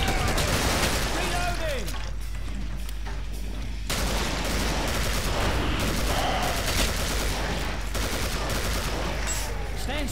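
Dense, continuous gunfire from weapons in the video game Killing Floor, a sustained fusillade of rapid shots lasting throughout, with people talking over the shooting.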